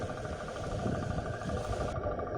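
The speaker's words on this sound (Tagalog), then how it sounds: "narinig yung andar ng makina" A boat engine drones steadily at a distance, a low rumbling hum with no voices over it.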